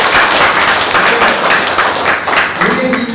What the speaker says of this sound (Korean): 이럴 때는 박수를 쳐요